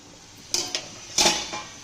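A metal lid comes off a cooking pot of yam puli kuzhambu with a few light clinks and scrapes, two soft taps followed by a brighter metallic clatter, all close by in a quiet kitchen.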